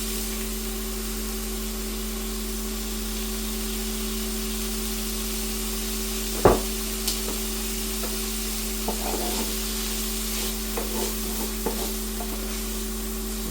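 Worcester sauce sizzles and steams away in a hot frying pan, a steady close hiss with one sharp clink partway through and a few light scrapes afterward, no voices.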